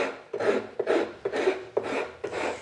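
A woodworking rasp files an inside curve of wood in five even back-and-forth strokes, each a coarse scraping rasp with a brief gap between, close and clear.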